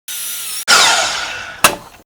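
A power saw cuts through pieces of wooden board in two loud, close bursts: a short whine, a brief gap, then a longer cut that slowly fades, ending with a sharp final rasp.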